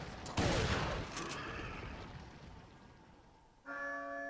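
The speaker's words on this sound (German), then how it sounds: "la campana. Es hora de rezar." A church bell rings in the video game Resident Evil 4, its clear tolling tone coming in at the end after a noisy burst of gunfire.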